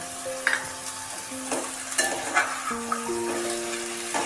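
A spoon stirs and scrapes through banana flower curry with boiled chickpeas and prawns in a pan, soft sizzling underneath and a few sharper knocks of utensil against metal, no voices.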